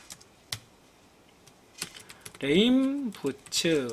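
A few scattered clicks from a computer keyboard, typed into an Excel spreadsheet, come first; then a person talks over the last part.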